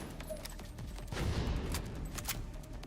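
Full-auto gunfire in The Division 2 during PvP, a dense rolling burst of rapid shots that swells loud midway and keeps rattling throughout, heard alone with no talking.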